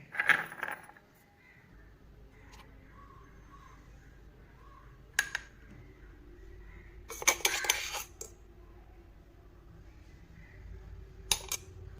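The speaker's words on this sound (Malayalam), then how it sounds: "നമുക്കിതൊരു സ്പൂൺ വെച്ച് ഇതൊന്ന് ഒരു ബൗളിലേക്ക് എടുത്ത് വയ്ക്കാം" A metal spoon scraping ground powder out of a mixer jar into a bowl for a homemade grey-hair remedy, sparse sharp clinks and scrapes separated by quiet gaps, close by.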